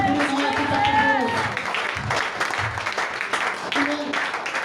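A church congregation claps and cheers during a sermon, a dense wash of applause over shouting voices and a preacher speaking throughout.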